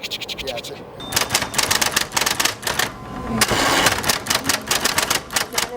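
Rapid mechanical clicking from the bypass shocks of an off-road Ford F-150 rattles on continuously, like a busy typewriter, loud and close with a rough engine-like rumble underneath.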